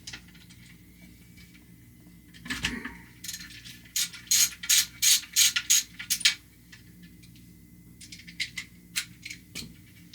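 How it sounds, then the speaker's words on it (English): A ratchet wrench turns nuts on a Barrett M82A1 bipod, making a quick series of close, sharp clicking strokes in the middle, then a few scattered clicks toward the end, with no talking. "okay, so got a ratchet"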